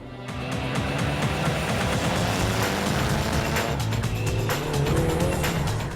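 A Mitsubishi Evo 8 drives hard, its engine a loud, steady roar with shifting tones and tire squeal, heard close and continuous throughout.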